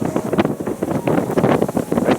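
Strong Antarctic wind on the way to the South Pole buffets the microphone, giving a loud, continuous rumbling roar that gusts unevenly throughout, with no voices.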